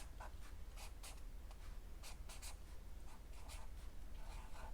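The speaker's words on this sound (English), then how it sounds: "Get my marker at the top. Let's write the word" A marker writing a word on a fresh sheet of paper, with close, soft squeaky strokes in short bursts, quiet and alone with no talking.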